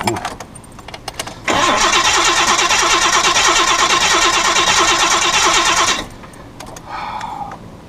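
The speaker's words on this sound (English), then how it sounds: "It cranks, no problem. For some reason, I don't know why, she won't start." Car engine cranking without catching, a sustained rhythmic starter churn of about four and a half seconds, loud and close, then stopping, with quieter background noise before and after.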